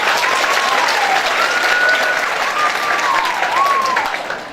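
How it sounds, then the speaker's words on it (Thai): Sustained applause from a school audience after two club performances at a Thai school event, a dense steady wash of clapping with a faint tonal whistle or feedback line drifting above it. "ขอเสียงปรบมือให้กับการแสดงทั้งสองชุดด้วยครับ"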